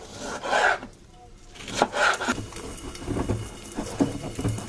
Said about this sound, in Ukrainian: Нарізаємо помідорку.